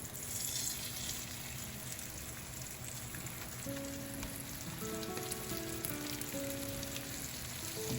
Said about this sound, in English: If it's nice and hot, it's gonna seal it right away and start frying it.